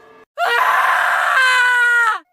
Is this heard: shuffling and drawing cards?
no